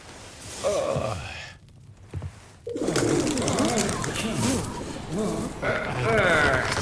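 Pigeons coo close by in throaty, warbling calls, repeated over and over, with a voice murmuring between them.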